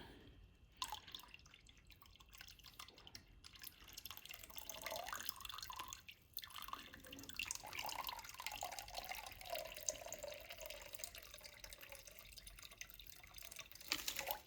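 Leftover electrolyte liquid pours and trickles out of a jar during a silver cell harvest, a steady close splashing and dribbling stream with brief pauses, running quietly for the whole stretch.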